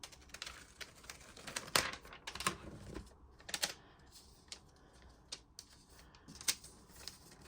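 Tear tab pulled off the box of an Apple 15-inch MacBook Air, giving a series of crisp cardboard rips and clicks in short bursts, close and fairly quiet.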